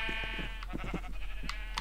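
Sheep bleating in the Minecraft video game on Xbox One during survival play on a sheep farm, several short game bleats in quick succession, moderately loud and close, with no talking.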